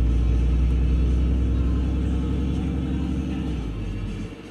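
A Cummins diesel truck engine while driving, a loud, steady low rumble heard from inside the cab that eases slightly toward the end.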